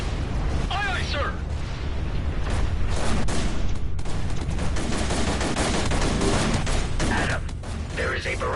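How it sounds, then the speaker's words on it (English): Torpedo barrage launched in the space combat game Everspace 2, a dense, continuous roar of rapid firing and blasts with a few whistling streaks, loud and sustained throughout before easing off at the end. "Fire all reserve torpedoes at once."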